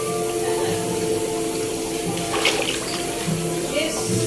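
Water runs steadily into a hotel jacuzzi at Okada Manila, a continuous close gushing and splashing with a faint voice under it.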